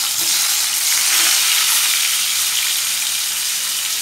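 Salted, turmeric-coated potatoes frying in hot oil give a loud, dense, continuous hiss that stays even throughout, close up with no speech.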